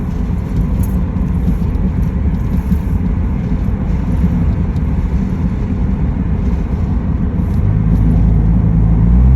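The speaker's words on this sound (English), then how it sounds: "RPM's just right. It almost sounds like a paddle shifter." An older Honda car engine runs under the cabin with a steady low rumble, the revs rising toward the end as it pulls through the gears, with road and wind noise throughout.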